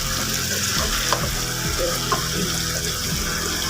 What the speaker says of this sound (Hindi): अब इसमें अच्छी तरह चमचा हिला लेते हैं हम।